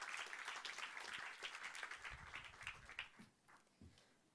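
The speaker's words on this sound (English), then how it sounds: "give him a warm hand of applause" An audience gives a speaker a warm welcome with a few seconds of fairly quiet, moderately dense clapping that gradually thins out toward the end.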